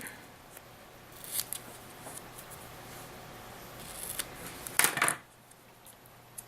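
Scissors snipping through a printed paper label, a few faint, quick crisp cuts with a cluster of louder snips near the end, alone in a quiet room.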